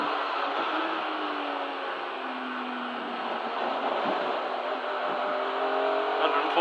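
A BMW race car engine at part throttle around Donington Park, a sustained loud in-car drone with the pitch slowly sagging and then rising again, steady and uninterrupted.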